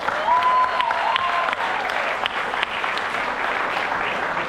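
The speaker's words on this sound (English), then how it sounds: "If we could get another round of applause for all of them." An audience at a theater grand opening gives a sustained round of applause, dense and steady throughout, with a voice briefly heard over it at the start.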